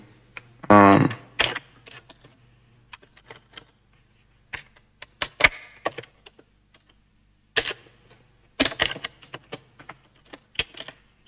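A track name being typed on a computer keyboard, with bursts of quick, close key clicks separated by pauses, including one louder clattering flurry near the start.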